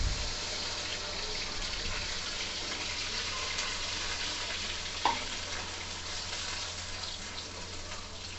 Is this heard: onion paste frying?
yes